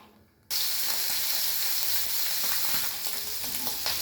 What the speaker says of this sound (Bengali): ট্যাংরা মাছটাকে আমি ভেজে নিই নুন হলুদ মাখিয়ে নিয়েছি